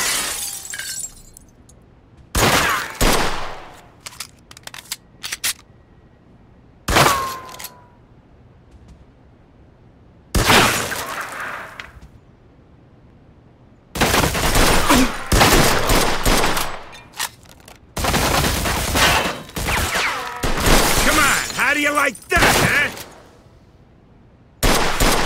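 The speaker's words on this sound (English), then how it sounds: "They're shooting from up top!" In the Mafia II Definitive Edition video game, enemies fire in loud bursts of rapid gunfire with shattering glass and impacts, separated by quiet gaps, with brief shouted voices.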